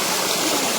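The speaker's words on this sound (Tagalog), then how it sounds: "Rumaragas ang tubig. Na nagmumula doon sa dulo pa." Stream water rushes in a steady, dense, broadband roar with no breaks, near and fairly loud, at a picnic spot on Mt. Makiling.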